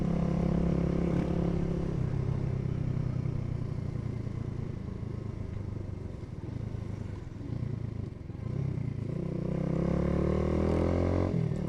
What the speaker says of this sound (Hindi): आवाज़ अच्छी है बाइक की इस दफ़ा